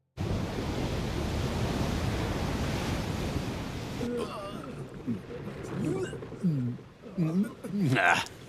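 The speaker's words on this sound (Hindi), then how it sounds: "ये लहरें तो कुछ भी नहीं थी।" Ocean waves roar as dense, loud surf wash for the first half, then recede under animated voices talking in an animated scene.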